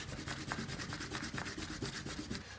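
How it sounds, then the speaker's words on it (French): An eraser rubs quickly back and forth over paper to clear pencil construction lines from a drawing. The soft scrubbing strokes come in a steady fast rhythm, close and quiet, with no speech. "On peut gommer les traits de construction."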